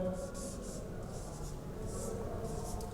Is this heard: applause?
no